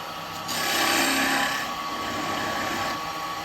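A carbide turning tool cuts very dry wood on a lathe with a close, continuous scraping hiss. It swells louder for about a second, then settles into a steady rasp with no talk.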